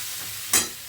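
Vegetables frying with green chilli in a pan: a soft, even sizzle running underneath, broken by one brief louder burst of hiss near the end.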